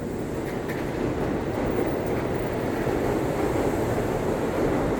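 A bullet train rumbles steadily nearby as it pulls away from a station, a loud continuous roar with rushing air and no voices.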